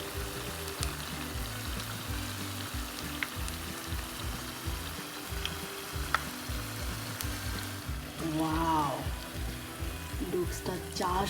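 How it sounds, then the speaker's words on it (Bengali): Asparagus and prawns frying in a pan give a steady, close sizzle throughout, with faint clinks and stirring noises and a brief voice-like sound near the end. "সবগুলি আমরা সুন্দর করে ফ্রাই করে নিলাম এবং এটা ফ্রাই হতে খুবই অল্প সময় লাগে"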